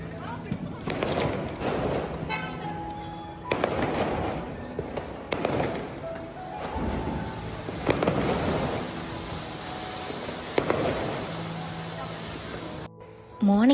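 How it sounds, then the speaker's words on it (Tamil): Diwali firecrackers and fireworks burst repeatedly around an apartment complex at night, sharp bangs and crackling pops spaced a second or two apart over a noisy, crowded background with people talking throughout. "டின்னர் முடிச்சுட்டு அப்படியே டைரெக்டாக வந்து க்ராக்கர்ஸ் போட ஸ்டார்ட் பண்ணியாச்சு"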